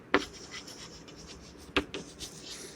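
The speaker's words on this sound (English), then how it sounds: "So here we will write B's saving," Pen writing on paper during a math lesson, two short scratchy strokes with a few lighter scrapes between, close and quiet with no talking.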